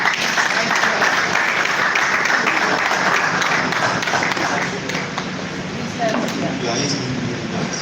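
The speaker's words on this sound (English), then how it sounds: "A round of applause." Audience applause at a mentorship scheme graduation ceremony, dense and continuous clapping that holds steady for several seconds, loud and close.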